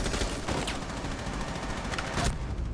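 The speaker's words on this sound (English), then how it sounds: "Pre-fires to bait that player out" Dense, continuous video game gunfire as a player pre-fires to bait an opponent in a pro esports match, loud rapid shots blending into a sustained roar with a few sharper cracks.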